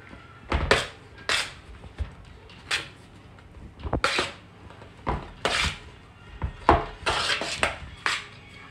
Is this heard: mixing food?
yes